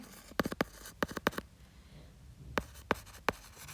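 Writing strokes during a Hindi-language lesson on the environment: quiet, sharp scratchy marks come in two clusters, separated by a short pause.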